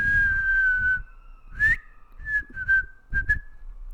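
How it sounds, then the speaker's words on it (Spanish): A person whistles a sustained note, then a few short whistled bursts, clear and close with no talking. "Eso es un silbido y el verbo es silbar."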